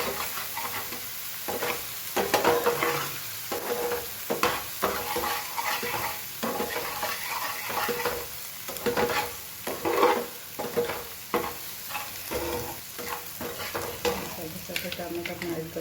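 Vegetables stirred in a frying pan, with a spoon scraping and clattering in an uneven rhythm over steady close sizzling, in a home kitchen for a Gujarati shaak.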